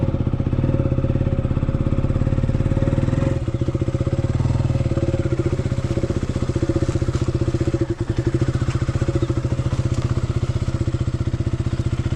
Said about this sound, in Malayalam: ബൈക്ക് സ്റ്റാർട്ട് ചെയ്ത് പതുക്കെ ഇറങ്ങാണ്.